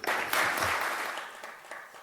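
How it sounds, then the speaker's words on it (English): Summit audience applauds for Nigel Wilson in a short, dense burst of clapping that starts abruptly and slowly tapers off over two seconds. "big round of applause, Nigel Wilson"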